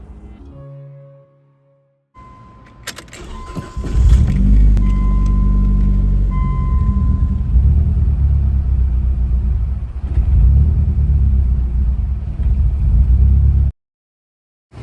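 A Mazda MX-6 engine starts up and idles roughly, blamed on a dirty throttle body: a loud, low, uneven rumble that holds steady for about ten seconds, then cuts off abruptly.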